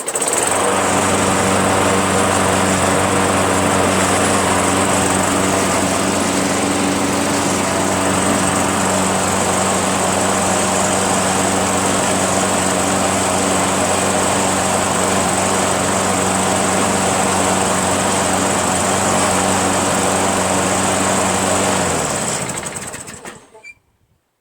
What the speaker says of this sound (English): Now we have a high wheel mower. It starts very easily, runs pretty well, and the front self-propulsion works